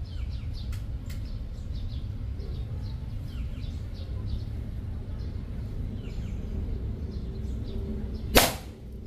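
One sharp airgun crack aimed at small mangoes in a tree, arriving near the end of the stretch, loud and close against steady outdoor background with scattered bird chirps.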